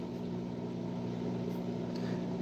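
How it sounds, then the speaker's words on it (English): A steady low electrical hum with a faint whirr, constant throughout, like a running microwave oven close by. "You hear my microwave and think it's yours?"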